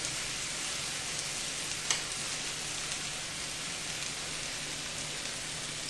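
A cream cheese and sour cream sauce simmers in a pan, giving a steady, even bubbling hiss that stays soft and constant throughout, with one faint tick partway through.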